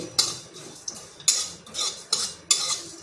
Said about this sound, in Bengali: আর দিচ্ছি এক চামচ জিরা একটা এলাচ আর এক টুকরো দারচিনি এটা একটু হালকা করে ভেজে নিচ্ছি